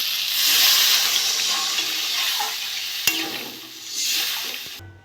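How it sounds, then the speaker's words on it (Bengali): Water poured into a pan of potatoes sizzling in spice paste for a Bengali fish, potato and brinjal curry. A loud hissing sizzle swells, then settles with stirring. One sharp knock sounds midway, and the noise cuts off abruptly at the end. "আমি এবার জল দিয়ে দেবো"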